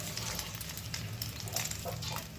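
An egg fries on a hot iron tawa with a soft, continuous sizzle and faint scraping, quiet and close, with no talking.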